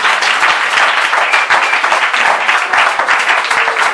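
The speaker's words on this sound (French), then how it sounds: "acclame très fort Seigneur Jésus" Church congregation applauding and cheering loudly and steadily for Jesus, a dense wash of clapping and voices across the whole stretch without pause.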